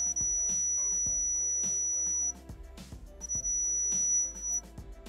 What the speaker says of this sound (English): Then check the circuit and beep.